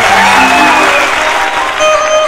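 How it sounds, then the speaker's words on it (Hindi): A large crowd claps steadily and loudly at a stage show during the Khurda Mela fair in 2018, a dense, continuous round of applause that holds its strength through the whole moment. "एक जोरदार ताली आप लोग बजा दीजिए"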